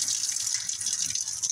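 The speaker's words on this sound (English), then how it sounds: "And I'm going to turn the water on," Water runs from a tap into a mop sink fed by an Eccotemp tankless water heater, a steady close hiss and splash with slight gurgling fluctuations throughout.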